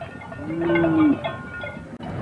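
Maasai cattle low with one clear drawn-out moo over an ambient backdrop of a herd, moderately close, with no one speaking.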